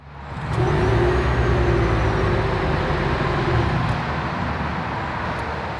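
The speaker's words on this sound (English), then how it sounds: "here is the startup of the Venza" A 2022 Toyota Venza hybrid SUV starts up, settling into a steady, fairly loud low whir and hum that holds evenly for several seconds with no revving.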